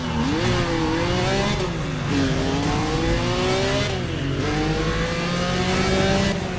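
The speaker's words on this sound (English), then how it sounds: "It actually kind of sounds like a Porsche now." Porsche-like car engine in the racing game Need for Speed ProStreet on the Tokyo Expressway, revving loudly through repeated rising gear sweeps with shifts, steady and close throughout.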